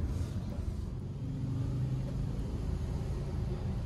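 Low, rumbling car engine and road noise as a vehicle rolls slowly into an automatic car wash, steady and close throughout, with no clear washing sounds yet.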